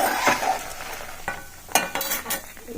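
Chillies frying in a pan for a spice powder give a soft sizzle broken by several sharp stirring scrapes and clinks, close up with no voices.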